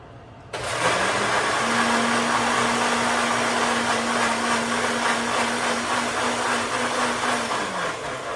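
A kitchen blender switches on abruptly and runs loudly and steadily, its motor whirring at a constant pitch with no voices.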